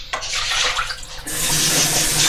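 A kitchen tap runs while dishes are washed: a short splash first, then from about midway a strong, continuous gush of water into the sink, close and loud, with no talking.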